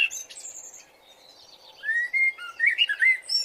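A cartoon character imitates the chirping call of a Lado bird in front of a nest, producing thin, high whistled tweets and warbling trills in short bursts that grow denser and louder toward the end.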